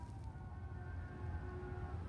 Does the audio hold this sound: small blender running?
no